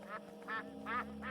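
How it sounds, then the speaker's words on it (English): Ducks quack four times in a steady rhythm over a low constant hum. The calls are soft and distant, with no voices over them. "Bloody ducks."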